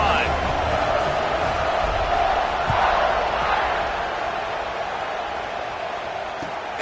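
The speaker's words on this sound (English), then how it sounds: "this crowd is feeling themselves after that last drive" A packed stadium crowd in the NCAA 26 college football video game roars steadily, a dense continuous wash of cheering that stays loud throughout, with commentary voices blended in.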